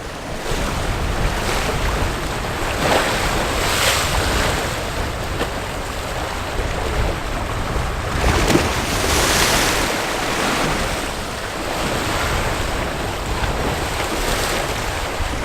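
Surf breaking at high tide along the rocky shore of Kilve beach on the Somerset coast, a steady rolling wash with swells building every few seconds, under constant wind buffeting the microphone.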